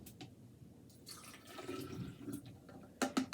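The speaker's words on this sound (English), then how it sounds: "you want to pour that in here" Liquid poured into a container while making a piña colada, a quiet, close splashing and trickling that swells midway and ends with a brief louder gush.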